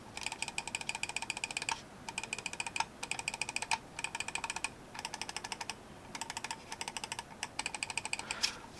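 A Corsair Sabre gaming mouse with tactile mechanical switches clicks in quick rapid bursts, bright crisp clicks repeated in several rhythmic runs with short pauses, close and clear without talk.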